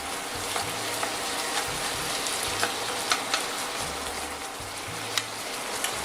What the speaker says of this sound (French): maintenant, on va bien faire revenir les girolles